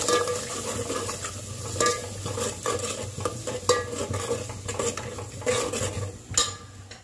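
Garlic and chili fry in a pan with a steady, dense hiss and crackle, and a spoon stirs and scrapes through them in irregular strokes, close and continuous without any talk.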